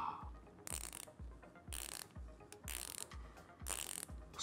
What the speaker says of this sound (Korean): 라쳇 소리 들어보지 않을 수 없겠죠.